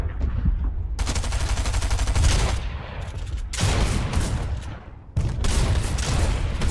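Rapid automatic gunfire in a Fortnite trios match, loud close bursts of rattling shots in three long strings separated by brief pauses, with booming low impacts underneath.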